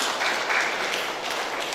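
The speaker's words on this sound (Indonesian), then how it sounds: "Tepuk tangan mahita tu nasida." Applause at a wedding ceremony fills the room as a dense, steady patter of many hands, fairly loud and continuous for the whole stretch with no voices over it.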